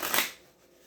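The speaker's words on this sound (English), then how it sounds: "One more shuffle, one more card." A quick riffle of playing cards being shuffled, one short crisp burst that fades into quiet.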